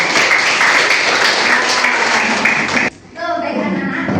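Students in a classroom break into steady group applause, loud and dense for about three seconds before it drops off sharply, followed by a brief quieter stretch.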